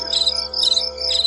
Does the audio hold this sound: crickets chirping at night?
yes